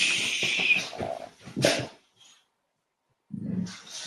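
Dogs whimper and growl close by, a run of whiny yelps and low grumbles that stops briefly before a short growling burst returns.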